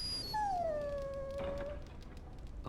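A dog howls once in the Dragon Age video game, a single drawn-out falling howl that is clear and fairly faint against a quiet background.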